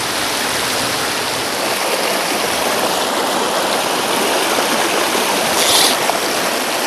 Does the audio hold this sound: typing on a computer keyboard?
no